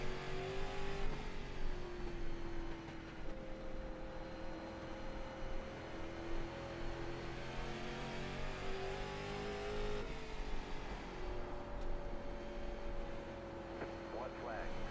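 A stock car engine from the iRacing simulator drones steadily throughout with a sustained, slightly shifting pitch as it holds speed on the final laps, loud and constant with a voice occasionally talking over it.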